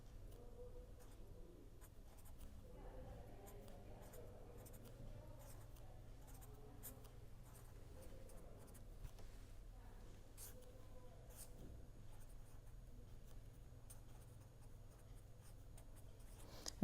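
An equation is written by hand during a lecture on d'Alembert's solution, giving faint, steady scratching strokes that run quietly for the whole stretch with no talking.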